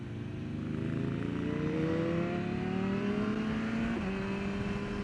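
A Ducati 999R motorcycle accelerating on the Thunderhill West race track, its engine droning steadily with a rising pitch through the gears and one quick shift dip near the end, loud and continuous with no voices.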